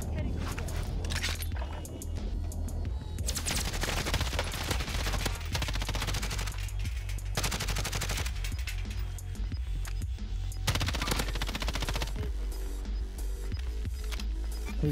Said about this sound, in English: Guys are shooting it from over here.